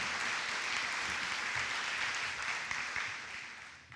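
Audience applause for a police chief at a city State of the City event, a steady dense wash of clapping from a crowd that holds for several seconds and then tapers slightly at the end.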